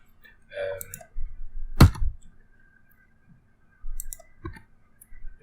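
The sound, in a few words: computer mouse clicking and keyboard key press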